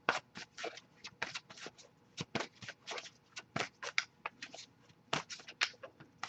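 An oracle card deck is shuffled by hand in a quiet room, producing quick, irregular bursts of riffling and sliding cards, close and soft, with short pauses between flurries.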